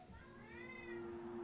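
A human voice imitates a cat's meow, a single drawn-out rising and falling meow, close and fairly quiet, with no other talk around it.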